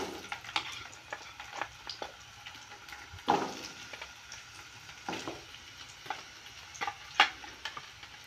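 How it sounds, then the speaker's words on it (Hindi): Carrots fry in leftover oil in a pan for an aloo gobi dish, a soft, low sizzle punctuated by irregular clicks and scrapes of a spatula stirring them. "अब इसी बचे हुए तेल में गाजर को भी फ्राई कर लेंगे"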